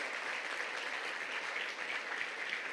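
Steady crowd applause at a church service fills the space, a dense continuous clapping from many hands with no voices on top.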